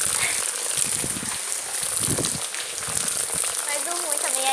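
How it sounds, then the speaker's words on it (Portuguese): Rain pattering steadily onto a backyard bonfire at home, with soft crackling and hiss throughout while a voice talks intermittently over it. "Chovendo, gente."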